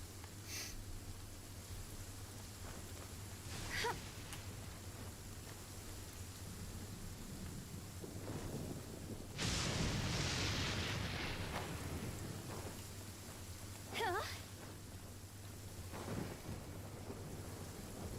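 Rain and rolling thunder in the Genshin Impact game world, a steady wash of rainfall with a loud thunderclap midway and fainter rumbles around it, no voices.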